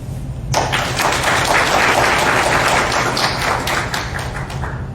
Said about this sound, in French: Qu'il vous plaise, mesdames et messieurs, de les applaudir chaudement